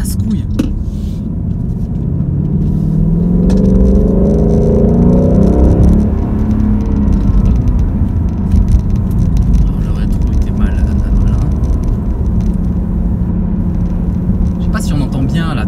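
The engine of a 2018 Ford Mustang GT roars and revs, rising in pitch for a few seconds, while someone talks over the loud, rumbling traffic.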